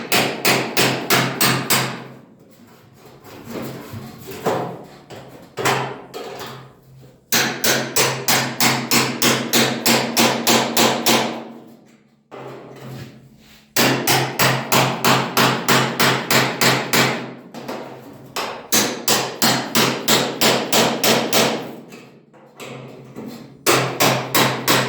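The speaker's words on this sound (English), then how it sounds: "You see me here, I got an old air chisel tip. It's nice and thin. And I got a hammer." Hammer blows drive an old, thin air chisel tip into a 1950 Chevy truck panel during a 3-window to 5-window cab conversion, rapid bursts of sharp metallic strikes separated by short pauses, close and loud.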